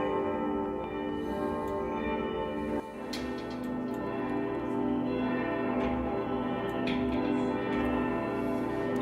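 Bells ring continuously with layered, sustained tones and soft ticking accents, a steady chiming texture that carries on throughout.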